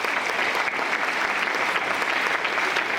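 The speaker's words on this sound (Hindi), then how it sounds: "जोरदार ताली अपने हेल्थ के नाम पे होना चाहिए।" Loud, steady applause from a seminar audience at a health awareness talk, a dense wash of many hands clapping evenly for the full three seconds with no voices on top.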